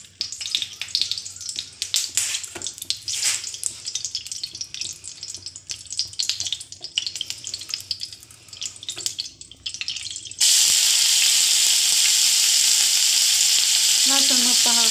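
Chopped onions fry in a pan with crackling, uneven sizzle that stir sounds interrupt, then water is poured in and the sound turns into a loud, steady, hissing roar that continues to the end.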